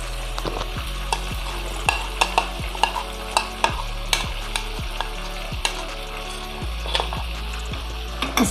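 Goat meat and yogurt fry with masala in a pot, a continuous loud sizzle broken by regular, sharp clanks of a spoon stirring and scraping, close up.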